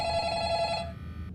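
Telephone ringing in the horror video game The Diner: Reopened, a steady electronic bell trill that sounds for about a second and then cuts off, alone with no voices.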